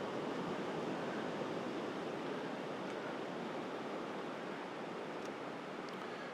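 Sea waves wash onto the shore of a coast at sunset, a faint, steady rushing hiss that continues without pause for several seconds, with no voices.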